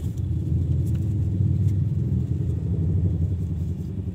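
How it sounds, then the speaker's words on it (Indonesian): Steady low road rumble from vehicles passing behind, including a loud motorcycle, heard near and continuous without any talk. "di belakang ada suara kendaraan nih teman-teman"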